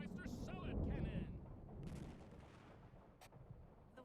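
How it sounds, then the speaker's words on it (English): A novelty salad cannon fires with a heavy boom and low rumble at the start, and a loud burst hangs over noisy background chatter before fading into room noise. "Sounds like you need the Krollmeister salad cannon."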